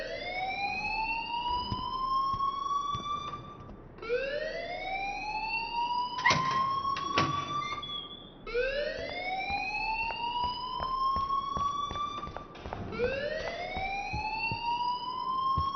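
An electronic alarm in the video game Life Is Strange wails in four rising sweeps, each climbing over about four seconds before restarting. It sounds loud and steady, with a few sharp clicks between sweeps and no voices.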